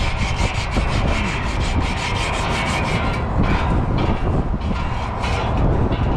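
Abrasive cloth rubs rust off the shaft of a condenser fan motor in quick, steady back-and-forth strokes, close and loud, with a scratchy rasping texture and no talk.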